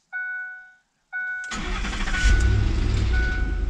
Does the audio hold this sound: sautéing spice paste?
no